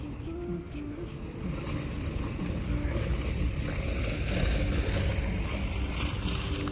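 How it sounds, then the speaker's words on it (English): A vehicle drives along OIC Road between Bijilo and Brusubi in The Gambia, a steady broadband rumble with wind and road noise that stays loud and even throughout. "That's a vehicle driving on that road"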